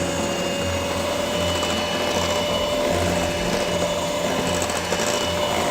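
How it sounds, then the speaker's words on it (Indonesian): Electric mixer whirring at low speed through cake batter for a traditional Indonesian bolu kemojo sponge cake as coconut milk is added bit by bit, a steady close motor hum that runs without a break. "selanjutnya kita masukkan santan sedikit demi sedikit sambil kita kocok perlahan. Jadi cukup menggunakan speed rendah aja"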